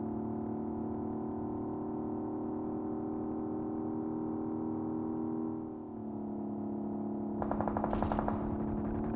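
Video-game gunfire, likely from a battle-royale match, rattles in a quick burst of shots near the end, following a steady droning hum with no talk.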